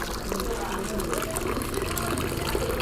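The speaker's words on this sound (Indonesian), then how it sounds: "cukup menggunakan air mengalir seperti ini aja atau air bersih" Running tap water rinses satay skewers in a steady, continuous wash, loud and close throughout with no pauses.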